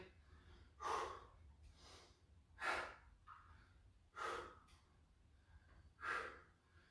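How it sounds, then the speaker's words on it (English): Heavy breathing during a full-body cardio workout: four strong, rhythmic breaths about every second and a half, each a loud rushing exhale, close to the listener with no talk. "The breathing is getting tight and heavy."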